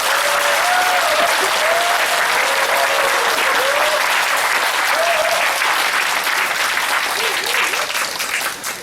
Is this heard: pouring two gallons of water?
no